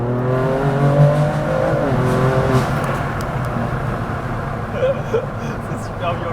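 A Stage 2 tuned BMW M2 Competition making 630 hp accelerates hard, its engine note rising steadily in pitch through the gears, loud and close from inside the car, with occupants' voices mixed in.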